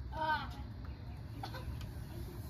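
A hen in a backyard chicken run gives a few short clucks, faint against steady low background noise.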